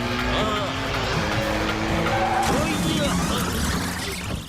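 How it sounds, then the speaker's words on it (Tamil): A speeding cartoon car from an animated Motu Patlu episode, with a steady engine roar, tire squeals and a skid building toward the end, loud and continuous under excited dialogue. "நீ ரோட்டை பார்த்து வண்டியை வேகமா ஓட்டு."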